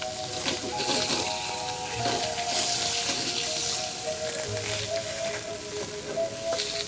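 Onions browning in a pan for pâté en croûte, a steady soft sizzle running throughout with a few faint kitchen clinks and no talk.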